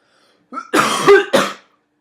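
A short burst of harsh coughing, two or three rough hacks close to the microphone with a brief gap between them.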